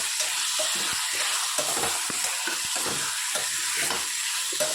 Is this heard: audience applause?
no